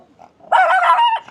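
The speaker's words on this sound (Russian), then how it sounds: "Злая собака." A small dog gives one sharp bark, loud and close, after a brief faint growl, ending quickly in a quiet setting at a cemetery in the Philippines.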